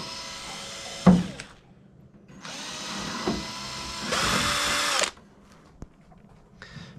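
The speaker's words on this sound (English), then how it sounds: "So just drill those two out." A power drill bores two holes while a Titan Kings draw-bar bump stop is installed, with a sharp clunk first, then two loud close whirring runs of about two seconds each, and a brief burst at the end.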